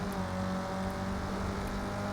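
A race car engine in Need for Speed Underground 2 drones steadily at full throttle for a couple of seconds, a loud continuous tone over a dense mechanical roar, with no voice over it.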